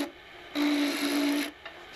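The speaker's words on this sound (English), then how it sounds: "I moved it while I was turning on the lathe" A lathe turns wood for a pointer wand: a steady, raspy cutting whir with a faint tonal hum runs for about a second and then stops, with quieter workshop noise before and after.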